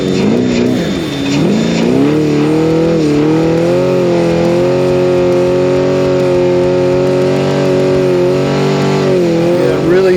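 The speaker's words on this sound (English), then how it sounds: "so I'm on the rev limiter in second gear at a top speed of probably 80 miles an hour" A Baja 1000 desert race truck with third gear unavailable holds its engine on the rev limiter in second gear near 80 mph, making a loud, sustained, steady drone with slight pitch wobbles throughout.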